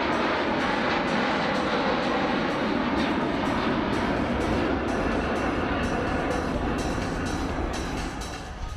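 A RAAF Boeing P-8A Poseidon jet making a high-speed pass at the Wings Over Illawarra airshow near Sydney, a loud, steady broadband engine roar that fills the whole stretch and fades slightly at the end.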